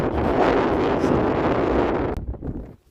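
Steady wind gusting over open flatlands on the Camino Francés between Burgos and Hontanas, buffeting the microphone with a loud, continuous rush that drops away abruptly near the end.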